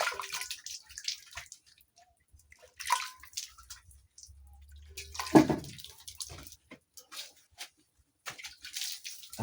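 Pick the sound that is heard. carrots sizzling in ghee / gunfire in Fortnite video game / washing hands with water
washing hands with water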